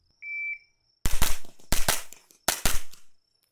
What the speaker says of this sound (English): let's go ahead and switch over to some subsonic ammunition and give that a run